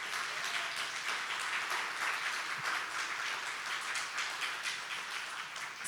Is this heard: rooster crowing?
no